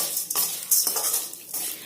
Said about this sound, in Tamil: இதை இப்போ நல்லா வறுக்கணும்